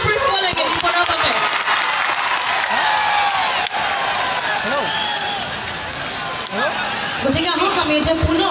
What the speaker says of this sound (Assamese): আমাৰ জোৰদাৰ হাত চাপৰি হ'ব লাগে নিপনৰ বাবে